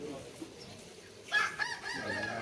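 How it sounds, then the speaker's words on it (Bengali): A rooster crows near a Kashi temple in Varanasi, a single strained call rising abruptly in the second half over faint background ambience. "এই দেখো মোরগ চিৎকার করছে, মোরগের আওয়াজ।"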